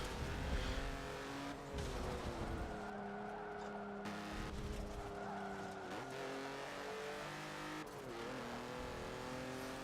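BMW i8 hybrid sports car in the Forza 7 racing game revs and shifts through gears, engine pitch climbing and dropping repeatedly with tire squeal and skids, loud and continuous with no talk.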